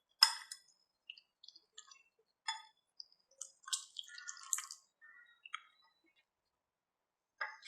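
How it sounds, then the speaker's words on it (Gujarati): Water being mixed into a semolina and curd batter, with scattered soft drips, squelches and liquid clinks in short bursts separated by quiet gaps. "અને એની અંદર પાણી મિક્સ કરી દઈશું."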